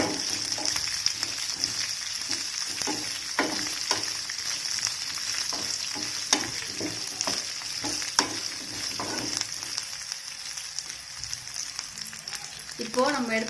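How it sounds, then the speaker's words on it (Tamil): Karpuravalli (Indian borage) leaves sautéing in a pan, a steady close sizzle broken by frequent clicking spoon stirs, a faint voice briefly near the end. "இது நல்லா வதங்கட்டும்."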